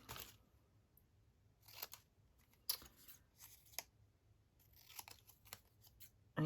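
Scissors cut paper for a glue book, a quiet sequence of crisp snips and rustles recorded close up, with irregular cuts spread across the stretch and one sharper snip at the end.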